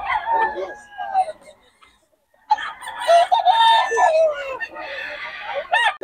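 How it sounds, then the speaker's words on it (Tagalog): Chickens and roosters at a poultry market in Bocaue crow and cluck in bursts, with a short lull midway and people talking nearby. "Ang gulo ng manok."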